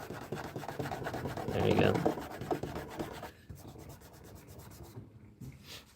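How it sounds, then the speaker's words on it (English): Dewalt detailing polisher buffing the paint on a Honda, a steady rubbing whir that swells loudest around the middle and then eases to a softer drone, with a brief voice near the end. "Doing some Honda polishing."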